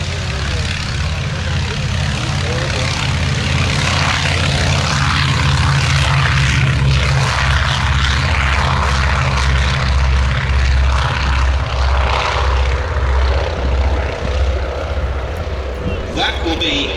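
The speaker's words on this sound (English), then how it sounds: "It's the world's only airworthy Avro Anson 1." Avro Anson 1 propeller aircraft flying a display at an air show, its piston engines droning loudly and steadily throughout and swelling slightly as it passes, with a commentator talking over the engines.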